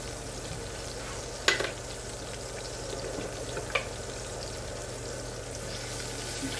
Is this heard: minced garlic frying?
yes